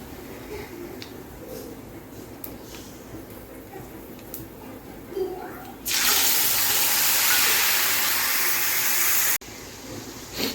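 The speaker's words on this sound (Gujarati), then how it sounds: "અહીંયા તેલ ગરમ થઈ ગયું છે હવે આપણે કરશું શાકનો વઘાર" Vegetables drop into hot oil for tempering, and a sudden loud hiss bursts up, holds steady for about three seconds and then cuts off, following quieter kitchen handling sounds.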